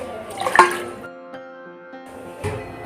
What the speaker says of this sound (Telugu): ఇప్పుడు 1 గ్లాస్ వాటర్ యాడ్ చేసుకోవాలి